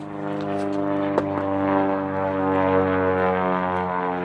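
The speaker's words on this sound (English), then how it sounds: "Man, don't mind the planes today." Airplanes pass overhead at an outdoor spot where a hatchet is being tested, making a steady droning hum with a strong tonal, propeller-like whine that swells slightly. There is a single sharp knock partway through and no speech.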